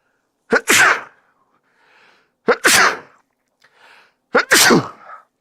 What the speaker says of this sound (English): Hey, boy, you got me sneezing.